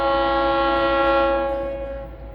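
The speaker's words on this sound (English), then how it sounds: "Well, I'll follow the train." An FECR freight train in St. Augustine, Florida sounds a loud, sustained multi-tone horn close by, which then fades over its last moments.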